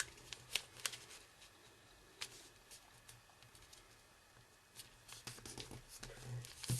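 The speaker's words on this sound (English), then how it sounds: "Now take this open edge and fold it to the center." A sheet of paper is folded into an origami Tyrannosaurus, giving soft crinkles, rustles and sharp crease snaps in irregular bursts, close and fairly quiet.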